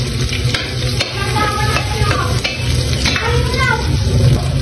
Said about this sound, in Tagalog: Ilagay na natin yung bawang. Ilagay na natin yung sibuyas.